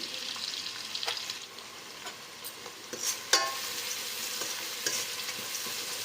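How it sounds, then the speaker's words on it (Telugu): Onions fry in a pan with salt for biryani, a steady broadband sizzle running throughout with occasional spoon stirs and scrapes, one sharper clack near the middle; no talking. "ఉల్లిపాయల్ని రంగు మనకు కొంచెం మారాలి అప్పటి వరకు బాగా వేయించుకోవాలి"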